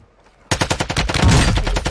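Rapid gunfire rings out in a video game after a short quiet start. A fast, loud burst of shots repeats in an even rhythm and carries on to the end, close and dominant.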